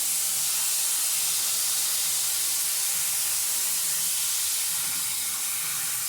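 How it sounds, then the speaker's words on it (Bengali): Boiled taro leaves hit hot tempered oil in a pan, setting off a loud, continuous, close sizzle and steamy hiss that holds steady throughout with no talking. "এবারে আমি এর মধ্যে সেদ্ধ করে নেওয়া কচুর শাকগুলো দিয়ে দিচ্ছি"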